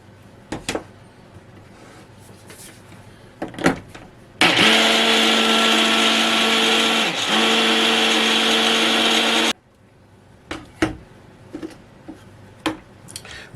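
A kitchen blender grinds roasted hazelnuts into paste in one continuous loud burst lasting about five seconds, with a brief dip in pitch midway. Clicks and handling knocks from the appliance come before and after it.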